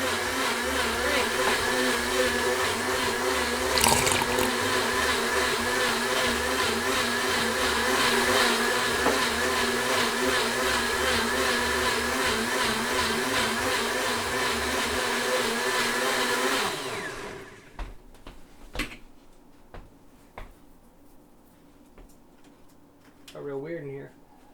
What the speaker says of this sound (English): When you're making salsa for your quesadilla, you want to hit the soup button